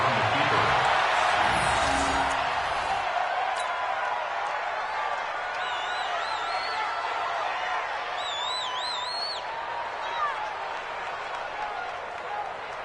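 Stadium crowd in a football video game, a loud wash of cheering and applause that stays steady, with a clatter of noise early on and high whistles later, under a commentator's voice.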